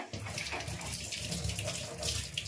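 Tap water runs steadily into a kitchen sink while coriander leaves are washed, a soft continuous splash and trickle heard faintly and close by, with no voices.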